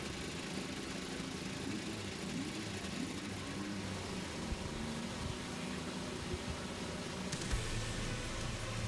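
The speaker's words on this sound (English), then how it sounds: "The sound we like to hear, race engines running on a Sunday afternoon." IndyCar race engines running at the Detroit Grand Prix street race, a dense continuous mechanical drone with idling and revving, a sudden brighter burst of engine noise near the end, and no talk over it.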